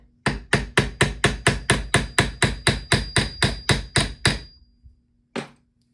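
Rivets hammered into iron with a steady run of about fourteen sharp, loud metallic blows at a brisk even pace, then a short pause and one last strike, close and with no talk.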